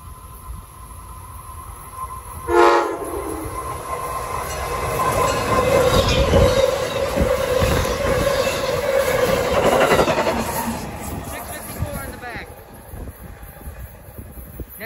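An Amtrak high-speed train, number 643, gives a loud, close horn blast, then roars past with rising rumble, clattering wheels and squealing that fade after about ten seconds.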